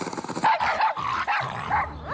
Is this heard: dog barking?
yes